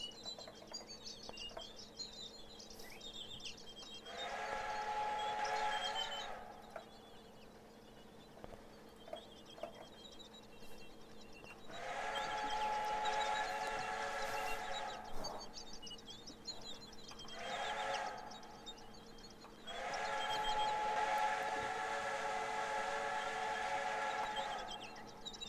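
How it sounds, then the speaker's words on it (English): A CP F1a Jubilee 4-4-4 steam locomotive in Trainz 2022 sounds its whistle in several long, sustained blasts of a few seconds each, with pauses between and a faint steady rail rumble underneath. "That is a nice whistle. You can hear that ways away."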